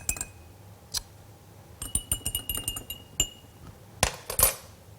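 A spoon clinks against a glass of water as it is stirred, a quick run of bright taps and rings, close and fairly loud, with no talking over it.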